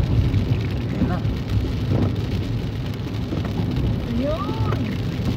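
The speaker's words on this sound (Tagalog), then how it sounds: "Kung di lang sana umuulan." Steady rain drums on a car during an expressway drive, a dense continuous wash of patter over low road rumble with no clear break.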